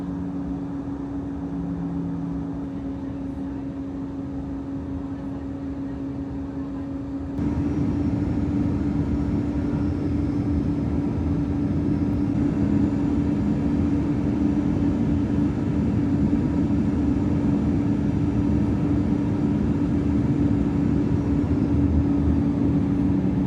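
A Swiss airliner lands at Zurich, heard from inside the cabin as a loud, steady engine roar that jumps up sharply partway through as thrust rises, then holds a constant heavy rumble to the end.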